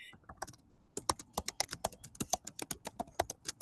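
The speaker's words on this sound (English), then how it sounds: "Just mute whoever's typing so furiously." Fast, furious typing on a computer keyboard: a dense run of sharp, evenly spaced key clicks, close and steady, with no talk over it.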